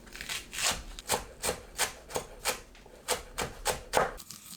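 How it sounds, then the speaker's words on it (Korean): Knife chopping green onions on a cutting board: a steady run of about a dozen crisp, evenly spaced chops, close and moderately loud, with no voices. "파를 작게 썰어주세요."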